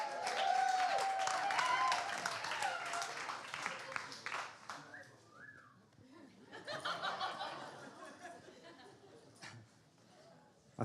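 A live event audience keeps clapping while guests walk to the stage. Applause mixed with chuckles and laughter fades, then picks up again, and voices talk over the crowd.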